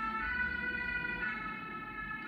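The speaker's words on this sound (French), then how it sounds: "J'attendais que la sirène passe." An emergency vehicle siren wails steadily as it passes by, fairly loud and continuous over low road rumble, with no talking.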